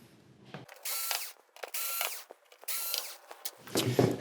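Power screwdriver backing screws out of a Sony XBR-49X800E television, three separate whirring bursts about a second each with short clicky pauses between, close and fairly quiet, no talking.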